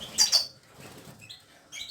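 Brief flurries of wing flapping from goldfinches and canaries in an aviary, two quick fluttering bursts early on and another near the end, with faint chirps between in a quiet room.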